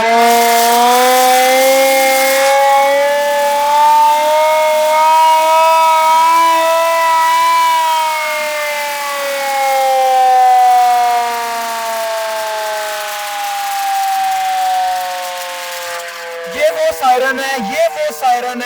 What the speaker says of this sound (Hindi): ये बिल्कुल एक चरखे की तरह ये एक सायरन है जिसको ऐसे घुमाया जाता है और आहिस्ता आहिस्ता ये स्पीड पकड़ता है, इसमें से आवाज निकलती है।